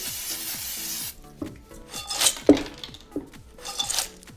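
Pumpkin seeds tossed in a bigger, shallow bowl give a close, steady rustling and rattling scrape in irregular bursts, with a faint repeating musical tone underneath.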